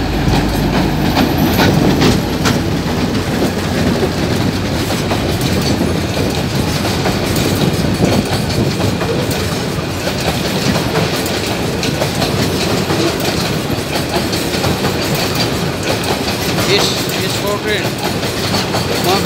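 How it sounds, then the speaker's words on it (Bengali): A long freight train rolls past close by at Mohakhali in Dhaka, beneath the flyover. A loud, sustained rumble of wagons with steady clickety-clack from the wheels and faint squeals continues without a break. "আমি এই ট্রেনটির অপেক্ষায় ছিলাম, এসেছে, কত সুন্দর লাগবে ট্রেন।"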